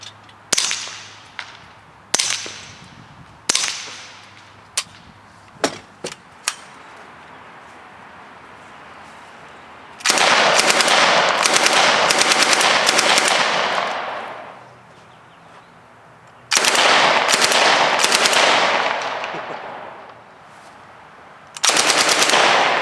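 An integrally suppressed Ruger 10/22 rifle, a KGMade EOS-22, fires outdoors: about ten separate sharp, snappy shots spaced irregularly, then three long, loud streams of very rapid fire, each lasting several seconds, with brief quiet gaps between them.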